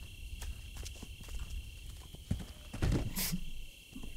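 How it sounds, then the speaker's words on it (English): Horses in a video game clip-clop and whinny under a constant electronic hum, with hoof thuds and one sharp neigh rising near the middle. "You gotta listen out for the horses"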